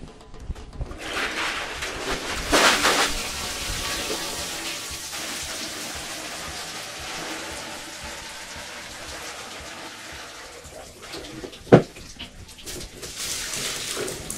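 Snail shells rinsed under a steady stream of running water, a continuous splashing hiss with a few louder clatters and bursts, close by and with no voices.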